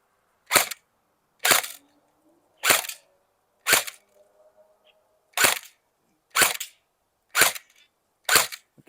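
Eight sharp semi-auto shots from a Game Face Insurgent AK-47 airsoft electric rifle, fired at a target about 20 yards away, spaced roughly a second apart with one longer pause midway, loud and close with no talking.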